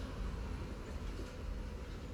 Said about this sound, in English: Love the train going past